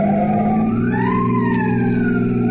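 A police car siren wails continuously during a pursuit, its rising and falling tone sustained and loud over a steady engine drone, with no talking.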